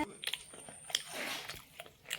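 Someone eating a thin roti at home, with soft, intermittent chewing and biting crunches close to the mouth; the sounds are quiet and irregular over a couple of seconds, with brief background voices.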